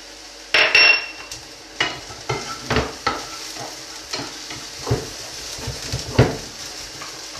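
Spring onions hit a hot pan for pasta frutti di mare with a loud initial sizzle, then keep crackling close by under a series of clattering stirs against the pan.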